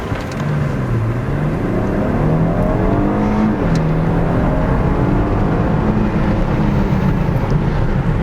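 A 2014 Mercedes S400 Hybrid in sport mode builds revs and launches, the engine note climbing and shifting steadily as it accelerates, loud and close with no talking.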